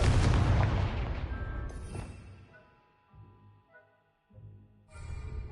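The Confringo explosive spell bursts in a Hogwarts video game with a loud booming blast that decays over about two seconds. Ringing tonal game effects follow, then quieter rumbles and a renewed low roar at the end.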